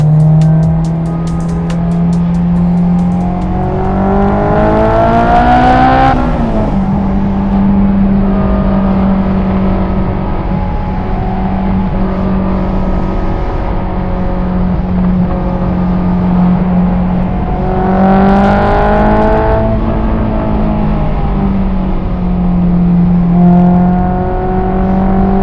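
Honda S2000 driven at night, its engine a loud, steady drone close up, with two rising rev swells as it accelerates through gears.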